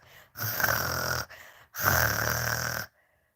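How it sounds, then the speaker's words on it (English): A man snores in two long, loud rasping breaths close by, each several seconds long with a short pause between, then quiet. "He's snoring, but he can still like"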